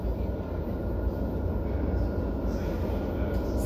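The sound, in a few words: train at a station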